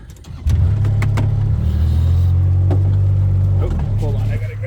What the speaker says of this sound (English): pardon me while I turn on my side-by-side and drive down the road to follow them